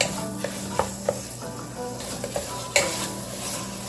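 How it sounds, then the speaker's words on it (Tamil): Mutton pieces are stirred with masala powder in a hot pan, a low sizzle running underneath while a spoon scrapes and clinks against the metal in irregular close strokes. The loudest scrape comes near the end. "சேர்த்து இதை ஒரு 2 நிமிஷம் மட்டும் இந்த மசாலா பொடி கூட கொஞ்சம் கலந்து விட்டுக்கலாம்."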